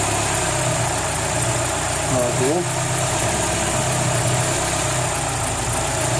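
A Fiat Strada Adventure's gasoline engine idles in a steady, close, constant drone while someone speaks briefly over it.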